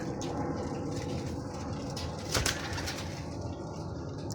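Pigeons for sale at a roadside dhaba coo in a continuous low burble, near and moderately loud, with a brief rustle or flap around the middle and no talking.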